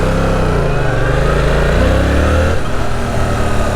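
A 2022 Yamaha R7 motorcycle with stock exhaust accelerating, a loud, close engine drone whose pitch climbs steadily, then dips briefly as if shifting gear, then continues.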